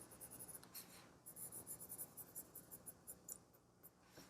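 A 4B graphite pencil shades on drawing paper in quick, rhythmic scratchy strokes, close and quiet, repeated steadily without any talking.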